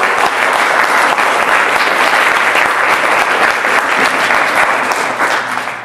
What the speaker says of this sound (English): I want all of us to give Adelita Grijalva a round of applause